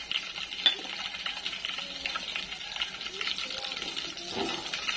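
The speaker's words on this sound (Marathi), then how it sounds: "त्यातच आपण ही दालचिनी, लवंग आणि मिरी टाकणार आहे।" Cinnamon, cloves and pepper roast in a pan with garlic, coconut and coriander, producing a steady soft sizzle with light stirring scrapes and a brief voice nearby.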